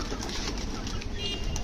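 Pigeons coo softly amid a busy outdoor background, with low murmuring calls and occasional rustling nearby.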